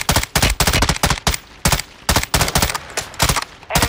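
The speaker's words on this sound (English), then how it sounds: "Hey, gunfire." Rapid bursts of automatic gunfire in Call of Duty: Modern Warfare II, loud and close, firing in repeated short volleys with brief gaps between them.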